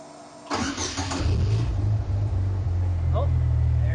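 A Triumph GT6's newly fitted engine cranks briefly, catches and settles into a loud, rough idle, close up, with a voice speaking over the start.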